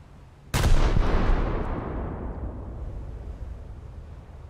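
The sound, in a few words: naval gun shells firing and hitting a target in a video game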